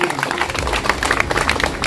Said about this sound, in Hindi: ताली बजा के धन्यवाद।